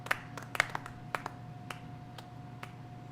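A few scattered, separate hand claps from one person, faint over a steady low hum, with sharp isolated snaps spaced irregularly and no talk.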